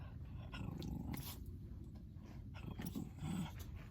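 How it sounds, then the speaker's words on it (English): Low rumbling growl from a dog beside a pond during a hot-weather fishing session, steady and close throughout with a few louder swells, no speech over it. "Stop growling, you little pest."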